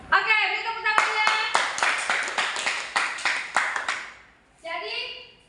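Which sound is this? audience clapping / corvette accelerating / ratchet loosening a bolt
audience clapping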